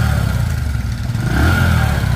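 A motorcycle engine idles and revs up briefly, a close, rumbling low drone with clattering mechanical texture.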